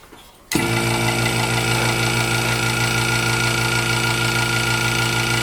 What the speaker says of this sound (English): now I'm going to go ahead and start my vacuum pump